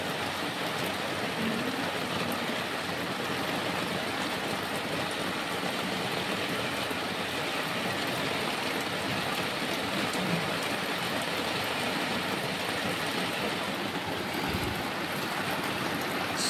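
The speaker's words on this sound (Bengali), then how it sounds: "দেখো গাইজ, প্রচুর পরিমাণে বৃষ্টি হচ্ছে।" A downpour of heavy rain at night roars steadily and evenly, a thick wash of falling water close by and constant throughout, with one low thump near the end and no talking.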